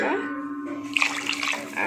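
Water splashes and gurgles as it is poured into a pan of prawn curry with okra, a brief bubbling pour in the middle of the clip, while someone talks over it.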